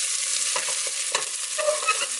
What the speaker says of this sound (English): And our onions. Give this a little stir.